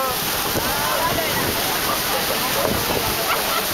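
Niagara Falls pours as a loud, unbroken roar of rushing water heard close up from a tour boat, with voices faintly mixed into the wash.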